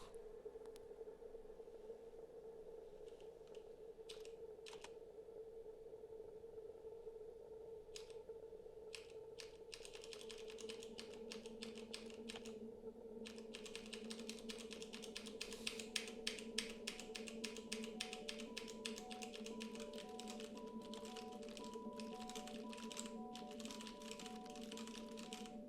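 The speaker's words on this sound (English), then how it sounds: "the first little bit, I was typing it" Computer keyboard typing, a steady run of quick clacking keystrokes that grows denser and louder partway through, with a constant tonal hum underneath and no talking.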